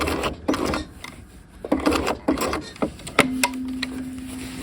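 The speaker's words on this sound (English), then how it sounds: "And then I'm just going to turn this slightly, take a couple stitches" A sewing machine taking a couple of stitches on a half-scale jacket facing and collar, short bursts of mechanical whirring and clicks with a brief hum, close and fairly loud, no talking.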